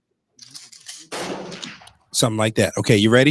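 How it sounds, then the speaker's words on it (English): A radio show plays a gunshot sound effect as a single sharp, noisy blast lasting under a second, preceded by a brief faint sound and followed by someone speaking up close. "If you don't get it right, you're gonna hear a gunshot."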